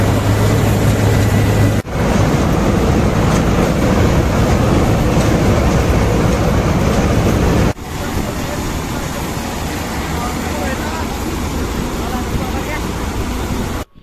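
A threshing machine runs in a crop field during harvest, producing a loud, continuous mechanical roar that drones on steadily for the whole stretch with a brief dip partway.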